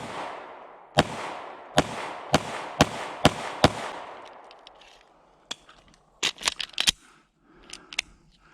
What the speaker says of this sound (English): We're going to press the trigger. Watch where the gun goes.